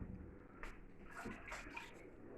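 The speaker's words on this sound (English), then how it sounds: "I'll wash my hands." Hands are washed under a running tap in a home kitchen while lasagna is being made, with a faint, steady stream of water and light splashes and rubbing sounds.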